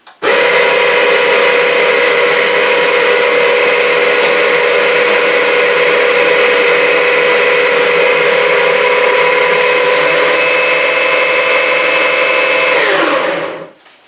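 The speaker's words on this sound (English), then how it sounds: "I've got my grinder set as coarsely as it will go" Electric coffee grinder set to its coarsest setting grinding coffee beans, a loud continuous high whir that holds steady for about thirteen seconds, then winds down and stops abruptly at the end.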